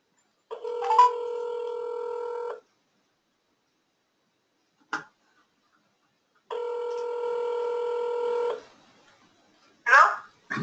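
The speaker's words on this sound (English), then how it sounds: "I'm going to call you on the phone." Telephone tones on a phone line: two long, steady, loud electronic tones about two seconds each, separated by a pause and a short click, with a brief burst of sound at the end.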